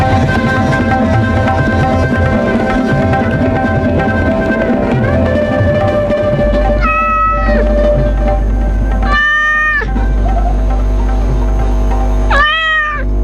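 Three drawn-out cat meows at spaced intervals, loud and close, over a dense steady background of music or noise, during a Hindi radio story reading.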